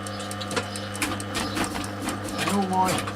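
A sewing machine double-stitches the ends of a dog slip collar, its steady mechanical run continuing beneath a person talking nearby.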